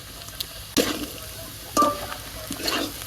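Boiled taro frying in a pan before turmeric and chilli powder go in, a soft low sizzle broken by two or three louder stirring scrapes, close and without talk.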